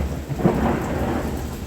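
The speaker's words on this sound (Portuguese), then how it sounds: "tá chovendo, pessoal, como eu falei ali, vai ter alguns relâmpagos durante o áudio" Thunder rumbles through a steady rainstorm, a low swelling roll blended with constant hiss of falling rain, fairly loud and close, with no voices.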